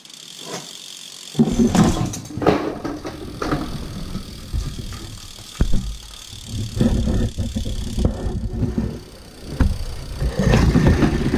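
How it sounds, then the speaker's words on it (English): A bicycle with newly replaced shift cables is run up and down its gears. The derailleur gives close, repeated mechanical clicks over a steady whirring drivetrain and freewheel ratcheting. "You can see by how it's going up and down the gears, it's now shifting correctly."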